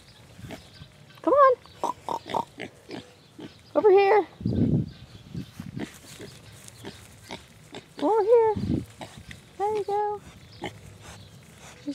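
Several pigs grunt and squeal in short bursts nearby, with a person calling to them gently between the sounds.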